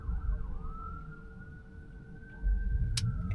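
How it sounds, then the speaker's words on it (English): An ambulance siren wails steadily as the vehicle passes on the right of a Tesla driving on a road, clear and fairly close over low road rumble. "An ambulance is going by on the right-hand side, so you can hear that."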